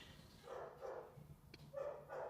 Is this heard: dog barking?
yes